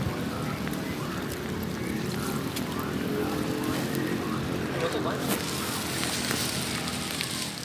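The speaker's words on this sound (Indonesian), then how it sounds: "Hujan-hujan." Steady rain falling outdoors at a fishing pond, a dense constant hiss and patter that fills the whole stretch at an even, fairly loud level, with people talking at times.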